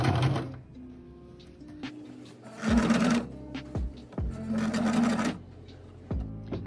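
A sewing machine stitching bias tape in two short bursts of rapid whirring, close and fairly loud, separated by pauses with clicks and handling knocks.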